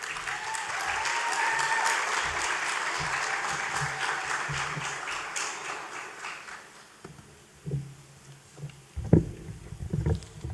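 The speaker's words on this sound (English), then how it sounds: "Please applaud him as he comes." Graduation audience at a school ceremony applauding as the outgoing deputy head boy comes up, steady crowd clapping that fades midway, followed by a few scattered bumps and handling thumps in a quieter room.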